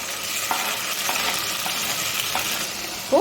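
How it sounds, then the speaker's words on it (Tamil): Tomatoes frying with onions in a pan, a steady close sizzle with faint stirring ticks and a brief metallic clink at the end. "தக்காளி கொஞ்சம் நல்லா வதங்கட்டும்"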